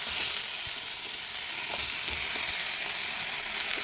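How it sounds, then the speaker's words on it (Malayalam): Pineapple curry sizzles and hisses in a pan as it is stirred, a steady bright frying noise with faint scraping of the spoon, close and continuous with no voices. "എന്നിട്ട് ഇളക്കി കൊടുക്കണം."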